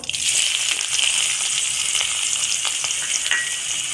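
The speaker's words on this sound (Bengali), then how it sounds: "তো পেঁয়াজটা ভেজে নেবো" Onions sizzling steadily in hot mustard oil while a spicy crab curry is being made, a dense, continuous crackle with a few stirring scrapes, close and fairly loud, with no talking.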